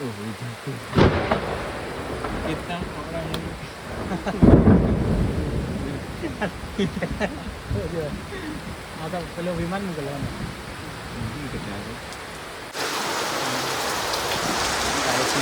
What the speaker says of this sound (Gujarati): અહીંયા પણ વરસાદ આવ્યો છે